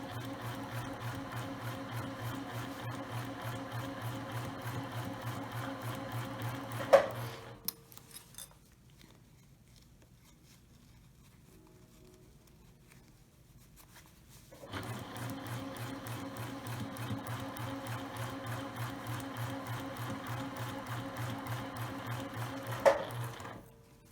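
A sewing machine stitches a travel shoe bag in two steady, rapid runs with a quiet pause between them, each run ending in a sharp click.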